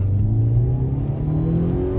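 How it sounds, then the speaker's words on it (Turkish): A car engine revs hard as the driver presses the gas, a loud steady rumble climbing in pitch throughout, close by with no talking. "Basıyorum o zaman gaza."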